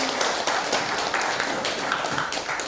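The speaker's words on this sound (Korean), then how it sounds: "간단히 박수 한번 우리 해주시면 좋을 것 같아요" Congregation at a Wednesday workers' worship service clapping together, a dense, steady patter of many hands that continues evenly throughout, fairly close, with a few faint voices mixed in.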